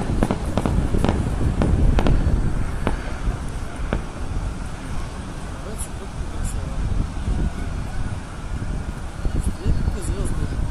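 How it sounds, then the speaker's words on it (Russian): Fireworks salute bursting over a city during a celebration, heard from a distance as scattered booms and crackles in the first seconds, then a steady rumble with wind, while people talk nearby. "Салют!"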